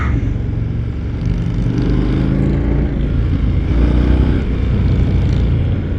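A 2025 Indian Scout Bobber motorcycle engine accelerating, a loud close steady drone with rising revs throughout, alone without talk.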